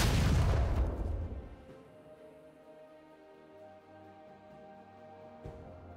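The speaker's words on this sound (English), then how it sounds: "Red Team's turret has been destroyed." A turret is destroyed in League of Legends, a loud booming crash at the start that decays into a low rumble, followed by quieter game tones and a small thud near the end.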